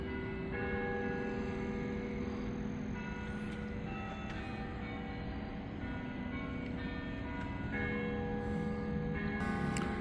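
Church bells ring from down the street in Johnson City, NY, a steady ringing with sustained tones heard at a distance over continuous outdoor street noise.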